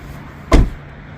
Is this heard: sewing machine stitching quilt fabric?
no